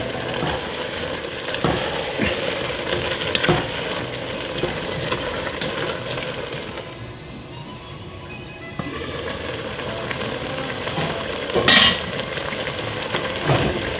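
Caramelized onions simmer and sizzle in a pot with white wine, a spoon scraping and stirring now and then, with a brief quieter lull midway.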